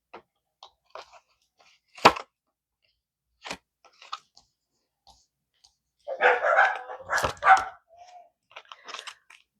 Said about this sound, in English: My dogs are barking at my son.